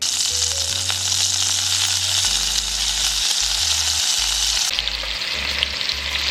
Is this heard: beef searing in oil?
yes